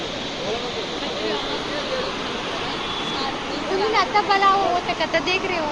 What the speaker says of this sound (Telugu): వాటర్ ఎలా పోతున్నాయి